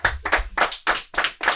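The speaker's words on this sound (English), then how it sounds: "And let's give a round of applause for Coach Cristobal." Applause for a football head coach: a few sharp hand claps in quick bursts, close and fairly loud, with short gaps between them.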